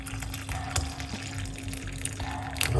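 Liquid poured off from a container while preparing a homemade remedy, a soft, fairly quiet trickling and splashing lasting a few seconds with no talking.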